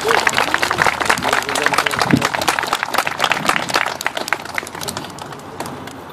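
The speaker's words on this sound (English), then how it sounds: "give her a nice round of applause" Outdoor crowd applauding a young woman after she sings the national anthem at a street dedication and renaming ceremony, steady clapping throughout with some voices mixed in.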